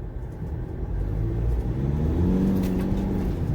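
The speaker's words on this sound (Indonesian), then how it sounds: "Oke, kita mulai coba tes torsi di sini" Mitsubishi Pajero Sport Dakar SUV accelerating hard from low speed during a torque test, a steady loud engine rumble building in pitch and volume over a few seconds, heard from inside the cabin with no talking.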